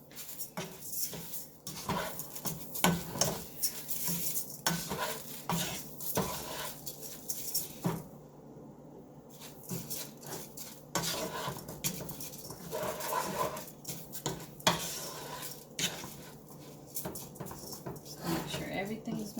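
Basmati rice is stirred into ground beef in a cooking pot for a Lebanese rice dish, giving scattered soft scraping and clinking taps against the pot under a speaking voice.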